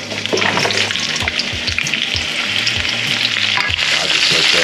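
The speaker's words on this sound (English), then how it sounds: "Got my wok fired up. Got some olive oil in" Olive oil sizzles hard in a hot wok, a loud, close, unbroken frying hiss with small crackles and light stirring knocks throughout.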